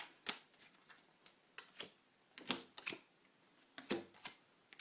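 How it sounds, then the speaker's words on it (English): Tarot cards are shuffled in quick riffling bursts, several crisp flurries close to the mic with short pauses between, no talking. "Do a couple shuffles to put some energy into the cards."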